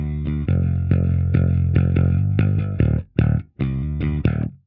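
Bass guitar through an STL Tones Graviton amp plugin set to an Ampeg-style 610 cabinet, a gritty, distorted riff of punchy repeated notes with short chugging stops and gaps, loud and dry with no talking.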